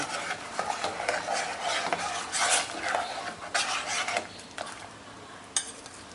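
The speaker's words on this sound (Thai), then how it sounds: "แล้วก็คนให้ละลาย" A spoon scrapes and rubs around a pot while red curry paste is stirred into coconut milk for Ubon-style coconut noodles, irregular close scraping strokes with a sharp clink near the end.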